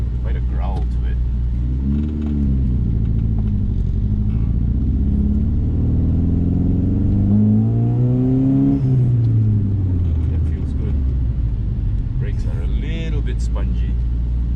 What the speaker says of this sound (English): Man, this car's got quite a growl to it.